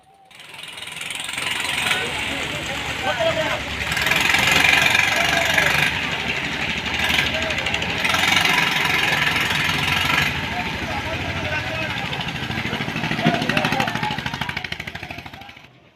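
Fishing trawler engines run steadily at Namkhana port, a busy Bay of Bengal fishing harbour where boats unload hilsa, with a continuous mid-pitched rumble mixed into dense crowd chatter and market noise throughout.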